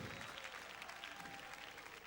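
Dense clapping from a crowd at the Solidays Madiba tribute carries on steadily through a short moment, with no distinct voice rising above it.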